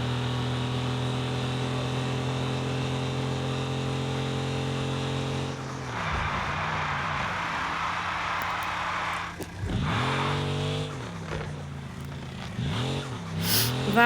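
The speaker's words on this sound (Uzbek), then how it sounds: "Bu ham tez mashina va qo'rqinchliroq." A fast car in a racing video game holds a steady, droning engine tone, then revs rise and fall sharply through several gear shifts, loud and alone.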